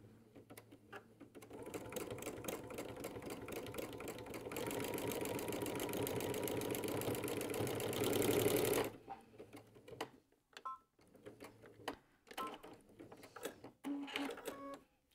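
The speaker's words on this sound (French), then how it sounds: "j'ai le pied du piqué libre, donc j'ai baissé les griffes de la machine. Et après, je vais faire des allers-retours en place." A sewing machine with a free-motion foot and lowered feed dogs stitches back and forth on white fabric, a fast steady mechanical chatter for about nine seconds, then stops, leaving scattered soft handling noises.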